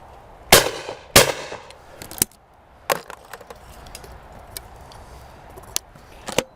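Blaser FBX shotgun fired at clay targets, two loud sharp shots close together near the start, then a third and scattered fainter reports and clicks, outdoors with no talk.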